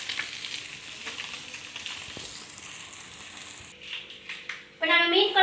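Fish frying in oil on a flat dosa tawa, a steady close crackling sizzle that runs on, then a louder burst of spattering near the end.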